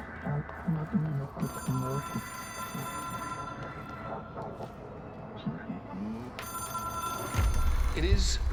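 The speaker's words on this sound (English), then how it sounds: "It is a phone. It's an object of power." An old telephone rings in a repeating bell pattern inside an office setting in the video game Control, the bursts of ringing overlapping a voice talking nearby.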